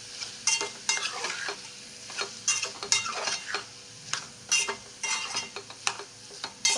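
Marinated prawns stirred into tomato and onion in a pan for a Malvani prawn chutney: repeated scraping spatula strokes over a lively sizzle in uneven bursts, close and fairly loud, no talking.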